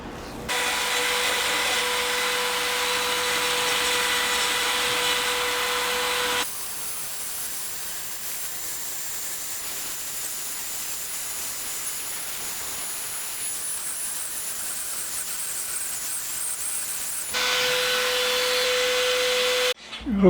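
A Dremel 4300 flex shaft fitted with a diamond burr carving a wood spirit face, a steady high whine from the rotary tool that drops in pitch mid-clip and rises again, close and continuous.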